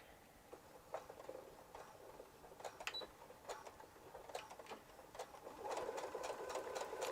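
A faint, quiet sewing machine sews a structural seam on a zipper pouch with a 2.5 stitch length, giving scattered soft needle ticks that thicken into a denser run of stitching near the end.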